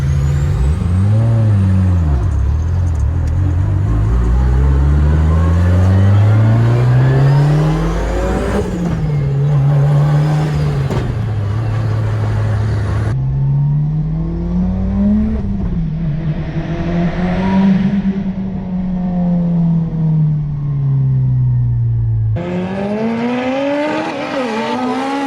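A Mitsubishi Evo 8 MR built to 750 hp, running Emtron management and a Samsonas gearbox, revs loudly and repeatedly, its engine note sweeping up and down with sharp gear changes and pops between pulls, sounding close and powerful.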